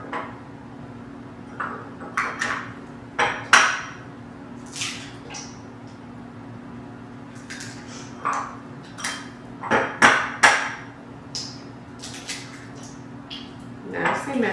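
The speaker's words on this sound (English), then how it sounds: "I'm going to start with the 4 eggs. And I'm going to just crack them into the bowl here." Four eggs cracked into a large mixing bowl for brownies produce a series of soft taps, shell crunches and wet squishes, scattered irregularly at close range over quiet room tone.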